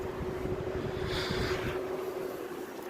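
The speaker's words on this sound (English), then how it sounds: "let's do low cool so we can hear the compressor come on" A window air conditioner runs on low cool as its compressor kicks on, a steady low hum with a constant tonal whine and a broad whooshing airflow swell midway, close and continuous.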